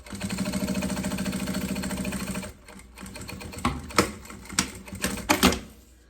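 An electric sewing machine stitches a seam on a two-colour synthetic box pencil case with polyamide thread, humming in a fast, even run for about two seconds, then dropping to a few sharp clicks and short mechanical bursts.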